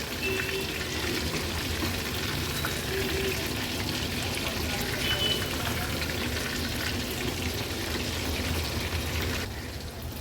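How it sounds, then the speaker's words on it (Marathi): Prawns deep frying in oil over a medium flame for Koliwada-style crispy prawns, giving a steady, dense sizzle and bubbling that runs evenly throughout and eases slightly near the end. "आता अगदी 2 ते 3 मिनिटासाठी मीडियम फ्लेमवर ह्या कोलंब्या मी तळून घेणार आहे"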